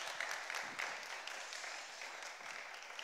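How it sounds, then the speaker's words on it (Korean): Steady audience applause, dense clapping from many hands filling the room for a few seconds. "우리 오늘 강해 주신 강사님께 박수로"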